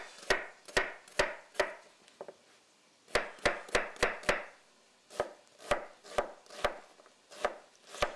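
A knife chops food on a cutting board in crisp, close, rhythmic knocks, one group of steady cuts, a short pause, then further runs of evenly spaced chops.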